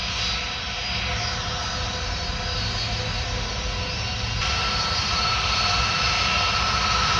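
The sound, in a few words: airliner jet taking off from Paris Orly runway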